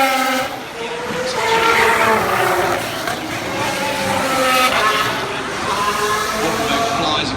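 A Williams Mercedes Formula 1 car pulls away from a pit stop at the 2015 Singapore Grand Prix, its engine note rising and falling through gear changes under loud commentary and crowd noise.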